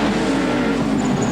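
A 1996 touring car's new-specification engine at full throttle during a race at Sandown, a loud, continuous roar close by with no pauses.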